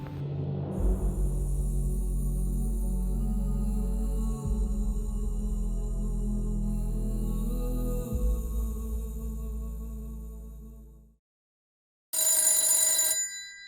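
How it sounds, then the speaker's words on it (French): A telephone bell rings continuously right beside a person, a steady loud electric trill with a low hum beneath it, cutting off, then briefly starting again after a short silence. "Le téléphone sonne juste à côté d'Arthur."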